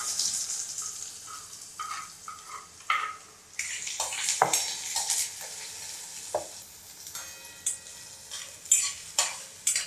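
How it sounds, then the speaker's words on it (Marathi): Onions, garlic and chilli sautéing for dal tadka: bursts of sizzle rise and fall as a spoon repeatedly scrapes and clatters in the pan, close and fairly quiet, no one speaking. "कांदा चांगला मस्त असं परतून घेऊ आपण"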